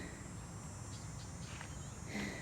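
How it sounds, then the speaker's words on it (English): Cicadas singing in a summer garden, a steady high-pitched insect drone that holds evenly from start to finish at a moderate distance, with no talking. "The cicadas are singing."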